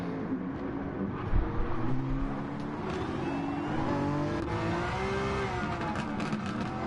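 A naturally aspirated Nissan Z34 race car engine revs hard with a raspy, buzzy tone, its pitch rising and falling steadily as it pulls at full throttle during a street race.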